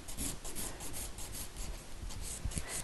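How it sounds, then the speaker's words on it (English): Rapid back-and-forth rasping of a nail file beveling an acrylic sculptured nail around the cuticle and sides, a steady close scratchy stroke rhythm with no talking. "And then your file fits in there real nice. And you can make it really smooth around the cuticle area."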